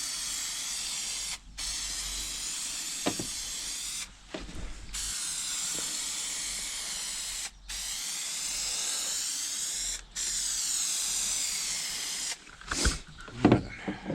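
Spray adhesive hisses in long, loud bursts as glue goes onto a Transit camper van's wheel arch and carpet, each spray broken by brief pauses, with a few clunks and handling noises near the end.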